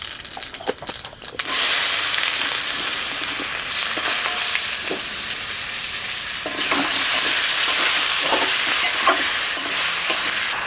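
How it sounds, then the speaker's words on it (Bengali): Dried chilies and bay leaves drop into hot oil left from frying prawns and burst into a loud, steady sizzle with occasional stirring scrapes, close and continuous. "চিংড়ি মাছ ভাজার তেলে ফোড়ন দিয়ে দিচ্ছি, শুকনো লঙ্কা, তেজপাতা"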